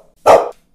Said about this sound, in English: That dog is making so much noise, I can't think of anything.